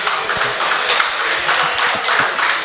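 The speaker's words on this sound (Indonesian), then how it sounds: "Saya mau tepuk tangan dulu buat Adit ya" Hand clapping at a crypto-themed talk event, a close, loud run of claps with distinct individual slaps, brisk and fairly even throughout.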